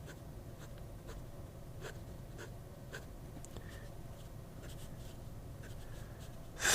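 Hongdian fountain pen with an architect-style grind nib writing on paper: a soft, steady scratch broken into short, regular strokes, heard close up and quiet with no talking.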